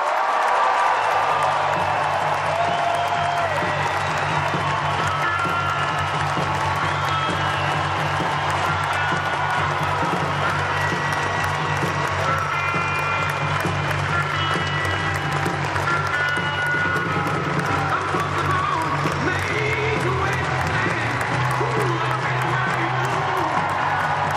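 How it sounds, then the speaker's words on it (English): Large crowd at a political rally for Michele Bachmann with Sarah Palin applauding and cheering Minnesota Governor Tim Pawlenty, sustained loud clapping with whoops and shouts rolling on for over twenty seconds, an amplified voice intermittently under the roar. "we owe him a big round of applause"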